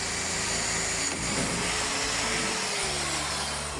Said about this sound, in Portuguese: Aqui agora a gente vai abrir um pouco mais o buraco.